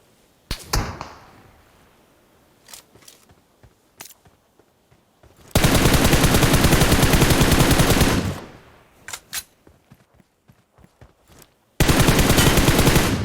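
Gunfire in the mobile battle game PUBG Mobile: scattered loud single shots, then two long, sustained full-auto bursts, close and dominant, with no talking.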